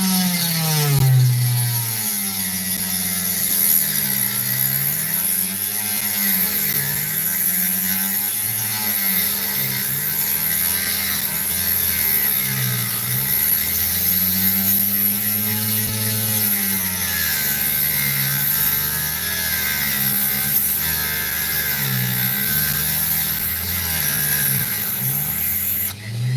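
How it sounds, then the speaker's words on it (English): A saw blade cuts through a roughly 90-carat opal with a steady mechanical whir. The grinding pitch rises and falls in slow, repeated sweeps over about twenty-five seconds, loud and continuous with no voices. "that is the sound of the blade not liking me."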